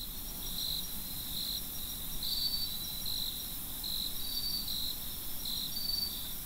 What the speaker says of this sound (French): différencier précisément dans le bruit ambiant de la forêt chaque espèce de grillon en fonction de son chant